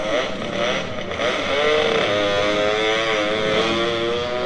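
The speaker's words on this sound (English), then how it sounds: "Screaming two-stroke there." A two-stroke speedway motorcycle engine screams at high revs during track practice at Gillman, a continuous buzzing roar with wavering pitch, fairly loud throughout.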